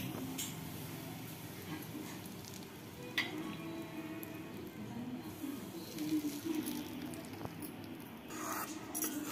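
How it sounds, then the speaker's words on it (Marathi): Hot oil poured onto gram flour dough sizzles steadily and softly for several seconds, a continuous crackling fry with faint background noise and no talk. "गरम तेल टाकूया."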